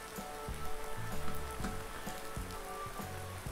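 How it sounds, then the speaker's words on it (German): Rain falls outdoors in Thuringia near a sawmill, a steady soft patter and hiss heard faintly at a distance under low engine-like hum, with no talk. "Ja, wir hören Regen."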